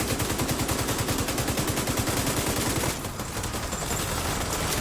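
Minigun in The Division 2 firing a rapid, continuous stream of loud, close shots, the rhythm steady for about three seconds before it shifts to a slightly softer, altered burst.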